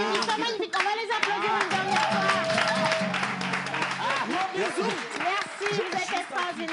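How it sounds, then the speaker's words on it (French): Clapping from an audience at a talent show in Togo, heard under loud chatter, cheering voices and children, with a busy crowd mix throughout. "On va les applaudir une dernière fois."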